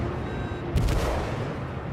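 Big warship guns fire in the naval combat video game World of Warships, one loud booming salvo that swells suddenly and then rumbles on under constant low background noise.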